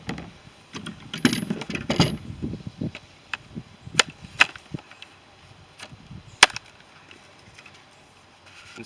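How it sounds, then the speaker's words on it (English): A plastic kayak rod holder is cut apart, with a run of sharp, irregular snapping and chopping hits that are close and loud at first, then sparser and quieter toward the end, with no talking. "get on Amazon and buy these rod holders and cut this section right here out"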